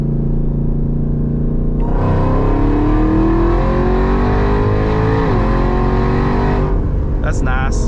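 A 900 HP Jeep Trackhawk on new tires and wheels makes a street pull from about 50 mph, its loud engine roar climbing steadily in pitch, dipping briefly at a shift, then dropping off as the run ends.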